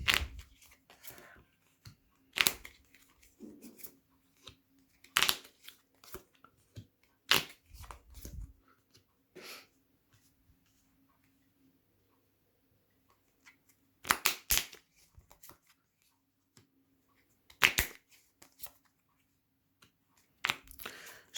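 Tarot cards being shuffled and laid out, heard as short, crisp bursts of riffling and flicking separated by quiet pauses, close and fairly soft, with a faint voice at times in the background.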